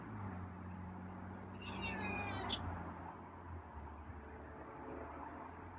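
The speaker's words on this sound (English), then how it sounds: "Is that some grumpy meows for waking you up?" A cat gives a couple of drawn-out, grumbling meows over a steady low hum, the cries rising and falling before trailing off.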